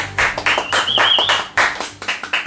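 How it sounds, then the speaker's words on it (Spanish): A small studio audience at a Zona Backline music session claps in uneven bursts, with a thin whistle rising briefly over the middle and a few sharp, separate claps trailing off near the end. "Por favor, un fuerte aplauso"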